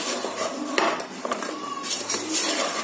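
Jaggery syrup and sugar powder being stirred in a pan for Sharkara Varatti, a close run of irregular metallic scrapes and clinks of a spoon against the pan, with no talking.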